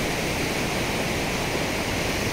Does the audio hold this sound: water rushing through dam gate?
yes